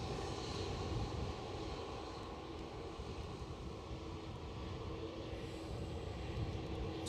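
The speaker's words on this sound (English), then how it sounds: "Oh, JetBlue on the ramp. Here come JetBlue." A JetBlue airliner approaches at Edinburgh Airport, its steady engine rumble and broadband roar holding at moderate, fairly distant level throughout, with light wind noise.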